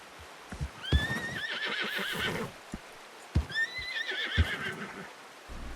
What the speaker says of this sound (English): tô com uma ação aí de empinar, né, no cavalo